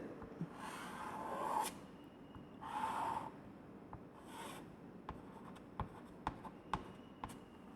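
A marker squeaks and rubs across a board while cell diagrams are drawn, in two short scratchy strokes followed by a series of faint taps and clicks, close and quiet with no talk.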